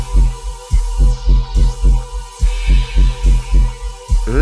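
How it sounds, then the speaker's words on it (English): A heartbeat sound effect in a music track: deep, loud double thumps repeating in a steady rhythm over a sustained low musical hum, with no voices. "Listen to the heartbeat."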